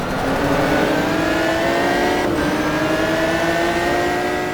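Ferrari GT race car engine in a racing sim video game, revving steadily with rising harmonic whine, loud and continuous throughout, no talk.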